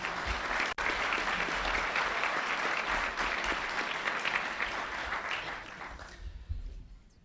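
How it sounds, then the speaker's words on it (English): Audience applause at a National Press Club luncheon, a full room clapping steadily for several seconds at moderate loudness, then tapering off and falling quiet near the end. "Please give them a round of applause."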